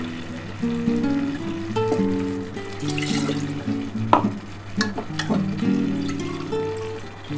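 Urad dal lentils going into a hot pan with a little water, giving a close sizzling, bubbling hiss broken by clinks of a spoon against the pan.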